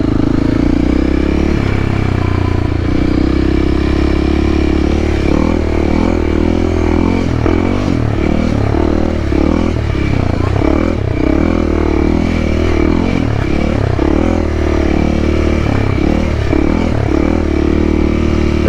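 A dual sport motorcycle engine drones steadily throughout a ride, rising and falling with throttle changes, accompanied by rattling and wind noise, no speech.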